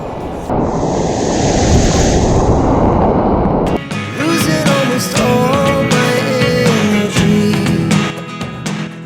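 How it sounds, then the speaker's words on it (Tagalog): Strong sea waves crash on a beach on Romblon Island under a dark sky, a loud continuous roar of surf and wind rushing close to the microphone, with a cut partway through to busier, mixed noise. "medyo maitim ang kalangitan at malalakas ang alon"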